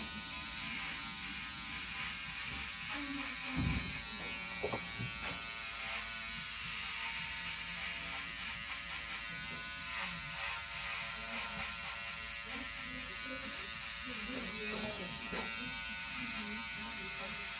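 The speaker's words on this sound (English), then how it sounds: "so just using my trimmer" An electric hair trimmer buzzes steadily throughout a high fade haircut, a close, continuous hum that runs alongside faint voices and small handling noises.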